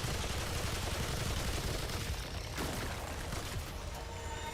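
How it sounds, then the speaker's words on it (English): Mortar fire in the video game Remnant 2 comes as dense bursts of rapid blasts and booming explosions, a loud continuous barrage with no speech. "The mortar's back."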